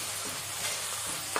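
Chole masala mixture sautéed in a pan, a dense steady sizzle with a few soft stirring scrapes, close and brief, no talking.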